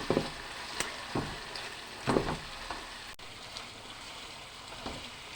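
Beef tikka pieces cook gently on a low flame for chatkara boti, a soft steady sizzle broken by a few scattered knocks and stirring scrapes, quiet and close, no talking.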